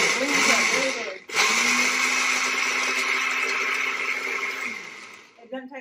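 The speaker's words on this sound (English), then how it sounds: "So we're just going to pulse it and" A kitchen blender pulses strawberries with a loud, steady whir that drops out briefly, resumes, and winds down near the end.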